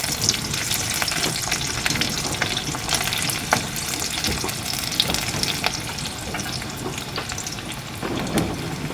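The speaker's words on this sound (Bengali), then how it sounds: "পেঁয়াজগুলো প্রথমে একটু হালকা করে ভেজে নেব" Thick-cut onion pieces fry lightly in hot oil, a constant close crackle and sizzle broken by occasional clinks and scrapes of a stirring spoon, with no talking.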